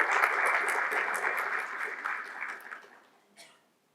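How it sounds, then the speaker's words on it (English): Clapping from a business conference audience at CII TG-PackCON 2025, loud and dense at first, then thinning and fading out to silence in the last half second. "Give a louder applause."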